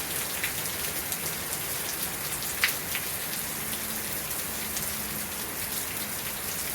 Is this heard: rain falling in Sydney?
yes